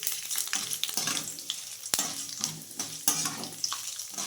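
Continuous crackling sizzle of urad dal frying in hot oil, with scraping stirs at intervals, close and fairly quiet.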